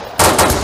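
Gunfire in an online shooter game during a raid, a loud close burst of two or three rapid shots lasting under a second.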